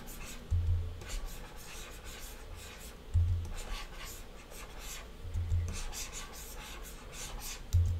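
A pen scribbles on a drawing tablet in quick back-and-forth scratchy strokes, close and soft, with light taps recurring every couple of seconds.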